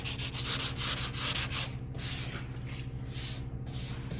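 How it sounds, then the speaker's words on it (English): Block sanding PPG high-build primer on a Chevelle show car with 320-grit sandpaper, rhythmic back-and-forth scraping strokes, close and steady, with brief pauses between passes. "Using 320, it makes it a little easier to sand."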